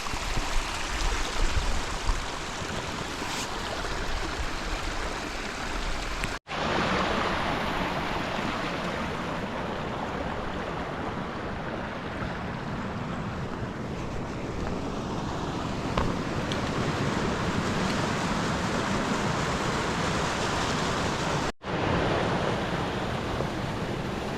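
A lovely waterfall at an out-of-the-way scenic spot pours in a steady, broadband rush of falling water, loud and continuous, with wind buffeting the microphone and two brief dropouts, no talking.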